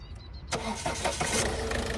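An original used car cranks briefly and then catches halfway through, settling into a steady, close running engine with no talk.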